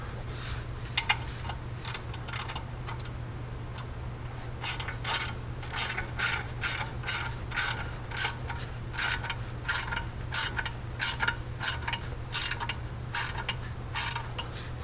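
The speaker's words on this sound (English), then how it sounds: "then just have the outer bolt to tighten" Rapid ratchet clicking tightens the outer bolt on a UHMW Ricochet skid plate on a Yamaha Viking VI side-by-side, repeated bursts of ticking over a steady low hum, moderately close.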